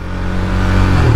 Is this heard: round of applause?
no